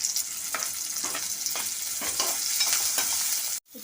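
Stirring of a chana dal and coconut curry in a pan after salt goes in, steady scraping strokes roughly every half second over a constant frying sizzle, close and fairly loud, ending in a sudden brief silence.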